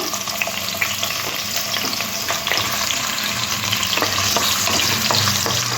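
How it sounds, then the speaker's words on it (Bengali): Loud, constant crackle and sizzle of green plantain pieces frying in oil, with occasional scrapes and taps from stirring. "কলার টুকরোগুলো হালকা লাল করে ভেজে নেব"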